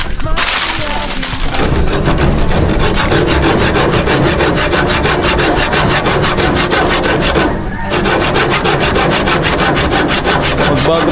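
A hand saw cuts wood during roof work with corrugated iron sheeting, giving loud, continuous, rapid rasping strokes at close range that barely pause once near the end.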